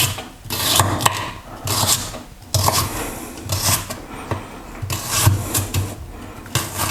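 A knife cuts peeled celery in half for a bolognese, with repeated crisp chopping taps and rasping strokes on a board, close and fairly loud throughout.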